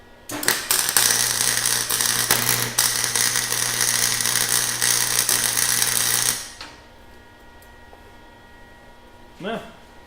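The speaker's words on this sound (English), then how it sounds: "So don't laugh at my welding." Welding support pieces onto the back of plasma-cut metal art, a loud continuous crackling buzz for about six seconds that cuts off abruptly, followed by quieter workshop hum.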